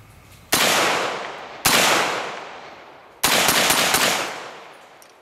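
Three loud, sharp gunshots ring out close by from an Auto Ordnance M1 Carbine firing .30 caliber rounds, each crack trailing off in a long echoing decay, spaced unevenly over a few seconds.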